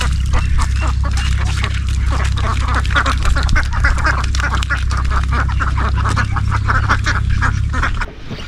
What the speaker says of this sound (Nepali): हाँसको पछि कुद्दै आउँछ।